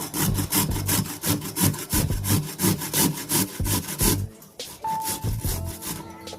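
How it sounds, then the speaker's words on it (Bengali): Carrots are rubbed against a hand grater in fast, regular strokes, roughly a dozen rasping scrapes close up, stopping partway before a softer scrape resumes. "এই গেটারের সাহায্যে আমি গাজরটা ঘষে নেব"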